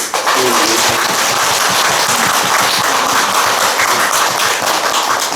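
Steady, dense applause from an audience at a Korean Buddhist dharma service, loud and continuous throughout with sharp overlapping claps and no talking.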